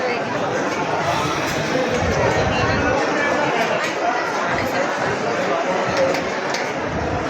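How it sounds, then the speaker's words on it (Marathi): Dense crowd chatter at Ganpatipule temple on a busy Saturday, a steady wash of many overlapping voices close around without pause. "शनिवारची गर्दीच गर्दी."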